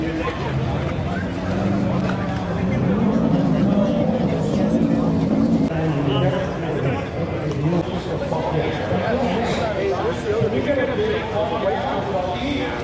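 Car exhaust rumbles at the 2024 Wicked Big Meet, a low, throbbing engine burble running continuously beneath people talking nearby at an outdoor car gathering.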